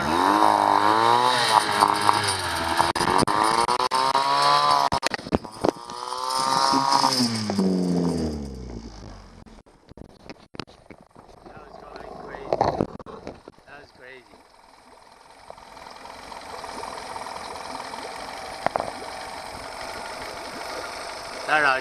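DIY outboard motor on water with an Arduino PWM speed controller, running with a rising and falling whine and rattle, then cutting out to clunks and quieter noise while someone talks.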